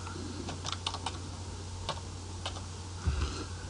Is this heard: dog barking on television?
no